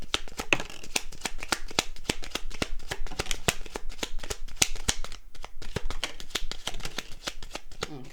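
A deck of playing cards is shuffled over and over. It makes rapid crisp riffling flicks in close succession, loud and near, with only a brief pause partway through.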